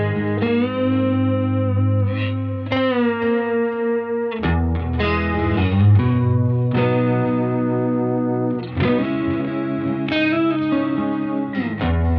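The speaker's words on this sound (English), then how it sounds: "I've got it set to a chorus sound that's very reminiscent of the Boss CE1." Overdriven electric guitar through an Earthquaker Devices Aurelius chorus pedal set to a Boss CE-1 style sound, with delay also engaged: shimmering, wobbling chords and single-note phrases played loud and continuous, with no voices.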